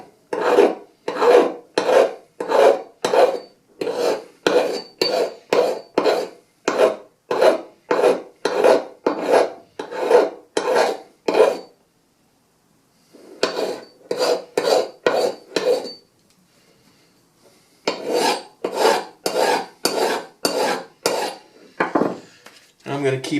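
A hand file rasping a 45-degree bevel on a 1911 pistol held in a vise, loud close rhythmic strokes in quick regular runs, broken by a pause and a short silence before the strokes resume.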